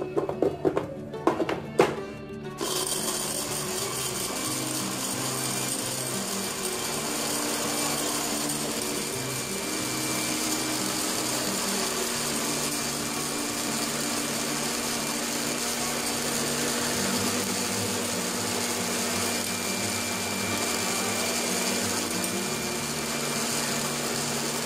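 A blender grinds star anise with olive oil, a steady, loud motor whir that runs unbroken for over twenty seconds after a few brief clunks at the start.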